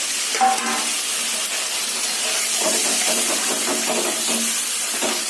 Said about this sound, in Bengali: তো এবার এই মশলাটা এর মধ্যে দিয়ে দেবো, দিয়ে ভালো করে কষাবো।